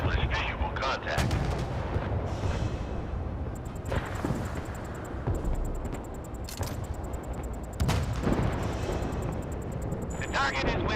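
Warship guns fire in the naval combat video game Force of Warships, giving repeated booming blasts and rumbling explosions at irregular intervals over a continuous noisy battle backdrop.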